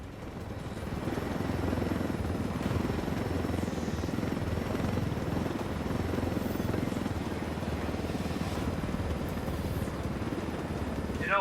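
A helicopter flying in the video game Ghost Recon Wildlands, a loud, continuous rotor chop and engine roar that holds steady for several seconds and dominates the scene.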